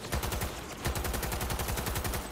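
Rapid automatic gunfire in Cyberpunk 2077, a dense continuous stream of shots at a fast even rhythm, loud and close with no talk.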